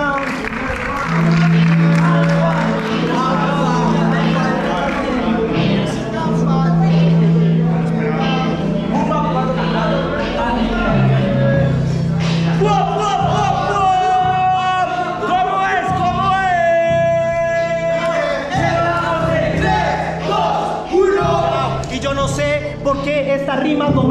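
Crowd at a freestyle rap battle, a national final round-of-sixteen clash, applauds and cheers loudly and without a break, with shouting voices and tonal sounds mixed into the dense roar.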